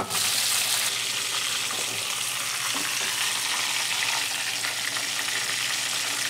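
Fish pieces fry in a pan with a loud, dense, unbroken sizzle close at hand, steady throughout with only faint scraping underneath.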